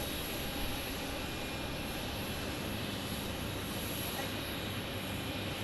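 An American Airlines jet arriving from Charlotte at Phoenix Sky Harbor produces a dense, continuous engine roar with a high whine, steady but fairly distant and faint for several seconds.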